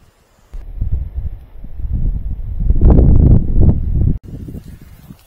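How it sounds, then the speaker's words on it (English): Wind gusts outdoors in an overgrown, wooded backyard, a loud, rumbling buffeting that swells and then cuts off abruptly near the end. "There's the wind, so you can hear the difference on both of them."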